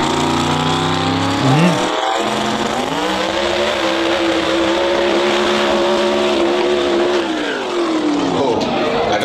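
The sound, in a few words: drag racing car engine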